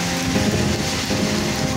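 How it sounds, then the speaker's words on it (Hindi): Rain falling at night in Jeddah, Saudi Arabia, heard as a steady, dense broadband wash with no clear individual drops, continuous and fairly loud throughout. "अभी बारिश हो रही है"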